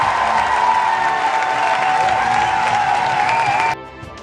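An audience claps and cheers steadily at a live Mario plush party-game finale, a dense, continuous wash of applause that stops abruptly near the end.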